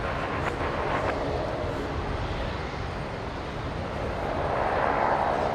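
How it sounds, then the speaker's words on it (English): China Airlines Airbus A350-900 taxiing toward runway 19 right at Brisbane Airport for departure to Auckland, a steady, continuous jet engine roar at moderate distance, even in level throughout. "So the China Airlines 359 are of course going over to 19 right for departure out to Auckland today"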